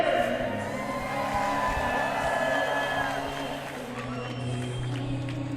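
A crowd at a bare knuckle fight event cheers and shouts in a sustained, steady roar, with scattered whoops rising over the dense mass of voices.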